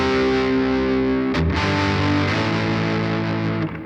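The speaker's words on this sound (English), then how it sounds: "And if we add a rat type distortion," A Les Paul Custom electric guitar through a Rat-type distortion sustains a chord with thick, buzzing saturation, briefly muted and re-struck midway, ringing loudly until the end.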